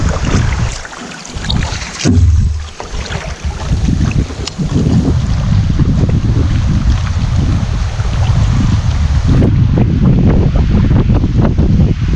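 Strong wind gusts buffet the microphone beside a wilderness lake during a fishing trip, a loud, steady roar with rushing water and waves underneath and no talking.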